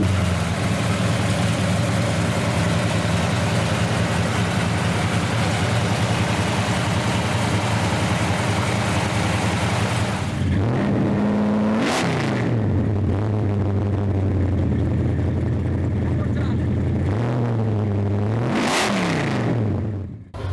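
A 448 cubic inch car engine at a car show idles steadily with a loud, low rumble, then gets two sharp revs that climb and fall back to idle, heard close up with no voices.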